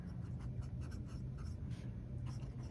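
A Sailor Pro Gear fountain pen with a medium nib, inked with Sailor Manyo Shirakashi, writes on paper in a steady, close, soft scratching stroke that runs unbroken throughout.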